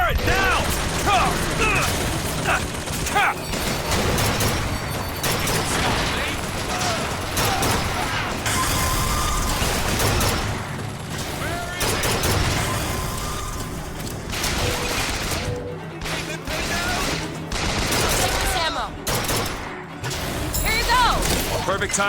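Turret summoned through a tear fires in BioShock Infinite, a dense, continuous clatter of mechanical gunfire and impacts running throughout amid combat noise, with voices now and then.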